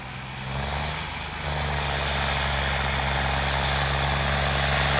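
A tractor engine idles at a village tractor-trolley competition, a steady loud low rumble that rises slightly in level early on and then holds constant, with no voices over it.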